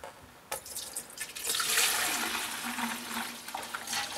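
Orange Dexcool coolant is poured slowly into the cooling system of a 2001 GMC Sierra, a steady gurgling liquid stream that starts abruptly and continues close up, rising in intensity midway, with no one talking.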